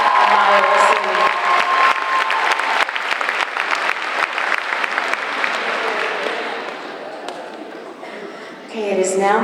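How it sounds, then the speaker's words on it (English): Audience at a 2019 graduation ceremony breaking into sustained, dense applause with some cheering, the clapping tapering off toward the end as a voice briefly comes through. "Let's have another round of applause for Sasha Gonzalez, Iris Garcia, and Maya Ro"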